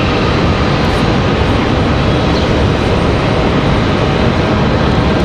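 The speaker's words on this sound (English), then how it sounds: "Here we go, the rush is on. United's headed out for departure." Airliners, a United jet among them, taxi out for departure at Raleigh-Durham airport, producing a loud, dense, steady engine roar with no speech.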